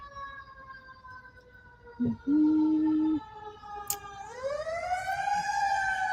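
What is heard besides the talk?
sirens passing by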